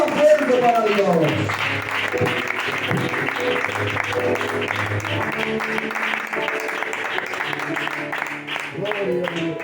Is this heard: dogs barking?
no